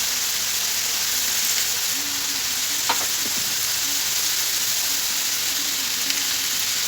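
Food for a zucchini béchamel sautés in a pan with a dense, continuous sizzle and the occasional scrape of a stirring utensil, close and loud, with no voices.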